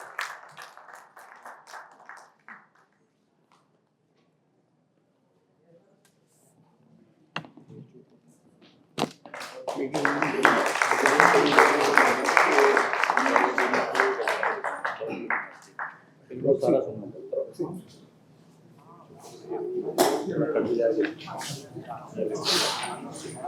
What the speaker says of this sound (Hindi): आप लोग तालियां बजाते रहिए भाई